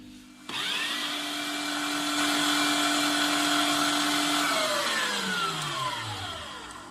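Minced chicken churning in a food processor along with green chilli, garlic and ginger: a loud, steady motor whine that runs for several seconds, then spins down with a falling pitch.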